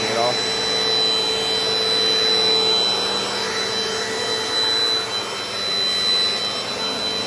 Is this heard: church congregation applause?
no